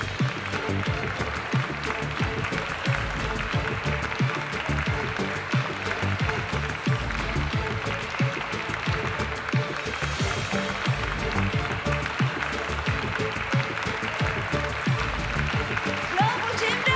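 Audience applause at a stage event, dense steady clapping that fills the whole stretch at an even level, with a faint voice occasionally under it.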